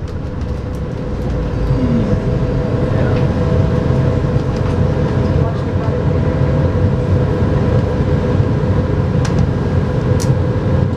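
A Las Vegas Monorail train runs southbound with a steady, loud rumbling hum from inside the car and a faint rising whine, continuous for the whole stretch.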